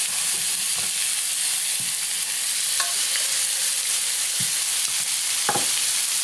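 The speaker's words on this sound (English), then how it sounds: "Now we're gonna sear these on each side 3 to 4 minutes at the most." Stuffed pork chops sear in hot oil in a pan, a loud, constant crackling sizzle with a few faint clicks of utensils.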